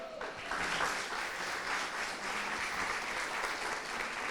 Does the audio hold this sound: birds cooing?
no